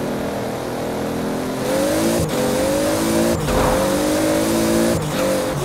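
Toyota Supra engine at full throttle in the Forza Horizon racing game, a loud, steady high roar that climbs in pitch through repeated gear shifts, each marked by a brief dip and sharp restart.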